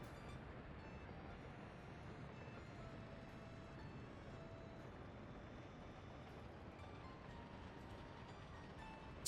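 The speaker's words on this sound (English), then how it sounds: "trains going everywhere" Trains run in the Workers & Resources city-building game, a faint, steady low rumble with soft tonal hints underneath, continuous and distant.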